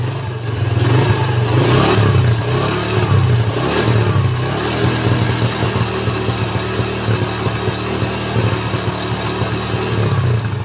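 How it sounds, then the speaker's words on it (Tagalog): A fuel-injected Vega Force motorcycle engine revving with the throttle, a loud close rumble rising and falling in repeated surges over a steady idle, with no talking. "Tapos lagyan natin ng konting throttle."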